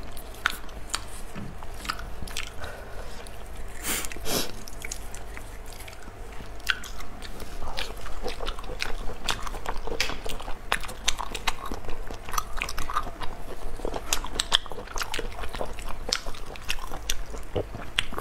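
Close, wet chewing and biting of seafood such as snails, sea fish and large oysters, with soft crunches and squishy mouth sounds repeating steadily throughout without talking.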